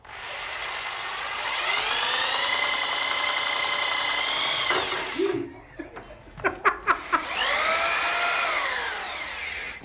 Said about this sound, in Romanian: Nu găuri sticla, mă!